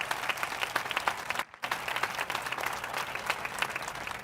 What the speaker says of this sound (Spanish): So let's give a big round of applause to those people who made this event happen